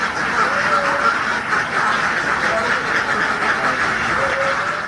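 A penned flock of Mojosari and hybrid Peking laying ducks quacks continuously, a dense overlapping chorus of calls filling the air at close range.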